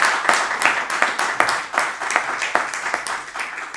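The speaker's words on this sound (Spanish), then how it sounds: "Vamos a darle un aplauso al Señor." Congregation at a Spanish-language church service claps in praise, a steady, fairly loud burst of hand claps with distinct sharp individual claps throughout.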